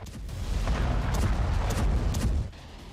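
Blast from a Russian attack on a residential area of Kyiv, a heavy rumbling roar that swells and sustains for a couple of seconds before dropping off, with no one talking.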